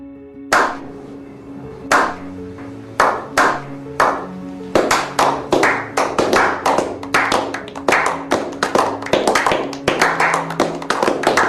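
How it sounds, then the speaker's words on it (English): Hands clap repeatedly, starting with a few spaced claps and then settling into a fast, steady rhythm of sharp, close claps. "Hang on, let me clap."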